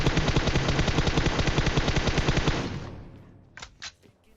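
Rapid automatic gunfire in a PUBG-style battle royale shooting game, a dense sustained burst for about two and a half seconds that stops abruptly, followed by two brief sharp shots a moment later.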